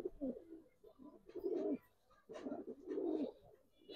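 Pigeons cooing close by, a couple of soft throaty rolling coos separated by brief pauses, with no talk over them.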